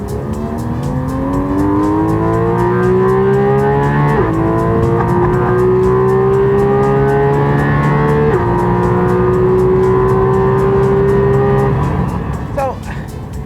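A Porsche 911 GT3 RS Mark II with the Weissach package drives hard, its engine climbing through rising revs with gear changes roughly every four seconds, loud and close throughout before a brief shift near the end.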